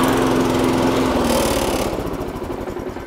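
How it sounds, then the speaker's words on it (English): A petrol lawn mower engine running just after being pull-started, a loud steady buzzing drone close by that changes pitch slightly and eases off toward the end. "And that's how you start the petrol mower."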